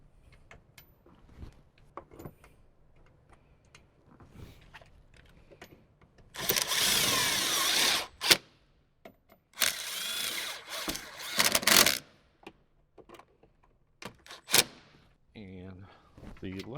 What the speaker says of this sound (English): Then we can go back onto the passenger side and get those 3 bolts in.